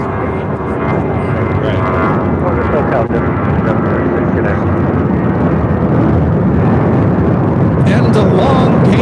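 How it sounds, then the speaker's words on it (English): A JetBlue Airways Airbus A320 takes off for San Francisco, its loud, steady jet roar filling the air and swelling slightly toward the end. "taking off to San Francisco on this A320 with JetBlue Airways Flight 2736"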